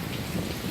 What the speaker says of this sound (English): I come outside and it's raining its ass off.